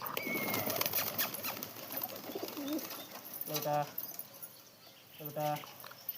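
Pigeons feeding close by on scattered gathiya, with soft cooing calls and brief fluttering bursts amid outdoor background noise; a voice talks at times over the birds.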